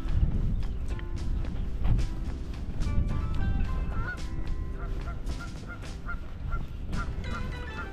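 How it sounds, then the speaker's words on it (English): Geese honking near the water by a dock at Daniel Webster Wildlife Sanctuary in Marshfield, Massachusetts, with repeated calls over a windy, rumbling outdoor background and no talk. "Some geese, if I'm not mistaken."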